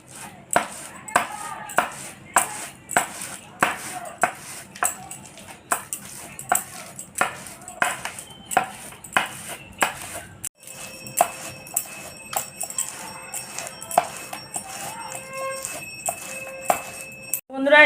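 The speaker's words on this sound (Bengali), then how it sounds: "এই চুবড়িতে আমি এই তাল ছেনে নেব" Ripe palm fruit pulp being worked by hand through a bamboo basket, a regular, close series of rubbing, slapping strokes about once a second, with some clinks later on.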